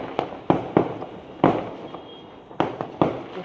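Firecrackers burst outside during Dev Deepavali celebrations, heard from indoors as a series of sharp, loud bangs in irregular clusters, some close together and some spaced out.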